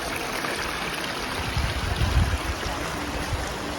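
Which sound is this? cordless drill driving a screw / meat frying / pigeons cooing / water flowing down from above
water flowing down from above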